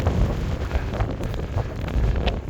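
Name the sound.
strong wind on a mountain climb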